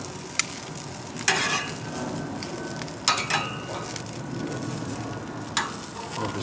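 Broccoli and other vegetables sizzle on a grill with a steady, soft hiss, broken by a few sharp clicks and pops.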